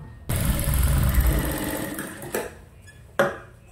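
A sewing machine stitching a princess-cut blouse runs in a steady loud whir for over a second, slows and fades, then two short sharp bursts of stitching follow, close up with no talk.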